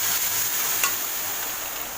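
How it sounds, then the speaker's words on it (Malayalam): Dal curry hitting hot mustard-seed tempering with chilli and turmeric powder, giving a steady, hissing sizzle that stays close and even throughout, with one brief clink partway through. "ജസ്റ്റ് ഒന്ന് ചൂടായതിന് ശേഷം നമുക്ക് കറി ഇതിലേക്ക് ഒഴിച്ചു കൊടുക്കാം."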